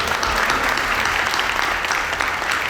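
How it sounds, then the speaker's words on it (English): Audience applause follows a performance at a National Immigrant Heritage Month reception, a steady, dense wash of clapping filling the room throughout without any speech over it. "Thank you for the performance. Let's give it a round of"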